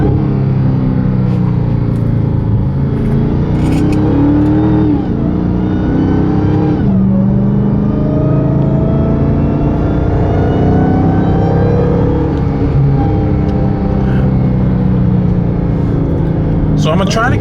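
A Dodge Hellcat fitted with a loud aftermarket intake revs hard and downshifts, its engine roaring and whining continuously and close by at high volume, with the pitch rising and falling through the gear changes.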